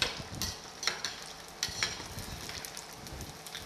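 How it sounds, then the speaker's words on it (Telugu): Fish deep frying in oil in a steel pan, a steady crackling sizzle broken by sharp pops and spatters every half second or so, close by and moderately loud, with no voices. "ఇట్లా డీప్ ఫ్రై చేయండి, ఇదిగోండి ఒక 10 నిమిషాలు వేగింది అంతే"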